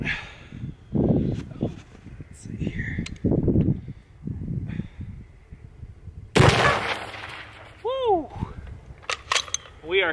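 A 6.5 Creedmoor Mossberg Patriot rifle in an MDT LSS chassis fires a 120-grain round at water jugs, making one sharp, loud crack followed by splashing debris. Voices talk before and after the shot.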